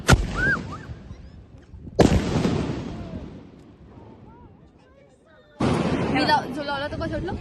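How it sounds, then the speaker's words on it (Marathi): Diwali firecrackers bursting nearby in three loud sharp blasts, each trailing off into rumbling echo, with people talking and exclaiming between the bangs. "भाई सब फटाके फोड़ रहे"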